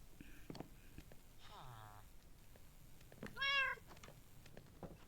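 A cat in Minecraft gives two short meows, the second higher and louder near the end, while someone speaks quietly in between.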